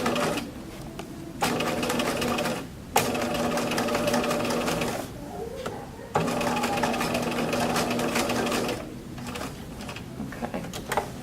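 A sewing machine stitches a cuff onto a sleeve and back-stitches at the end, running loudly in three long stretches broken by brief pauses and mechanical clicks.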